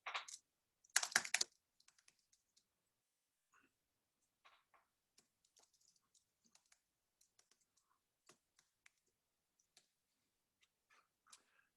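Keys clatter on a computer keyboard while a spreadsheet is being edited in Excel: a dense burst of loud clicks at the start, then sparse, scattered single taps and short runs of light keystrokes, close by and with no voices.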